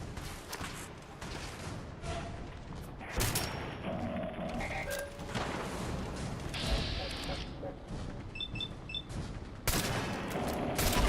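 Gunfire in Fallout 4 during a deathclaw fight, repeated booming shots and thuds among game effects, loud and close, with someone talking over much of it.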